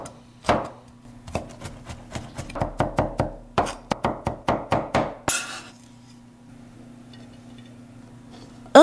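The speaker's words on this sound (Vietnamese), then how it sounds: "Và mình băm nhuyễn tỏi ra như vậy nè các bạn." A knife minces garlic on a cutting board in a series of rapid, close, sharp knocks, bunched in quick bursts before the kitchen falls quiet.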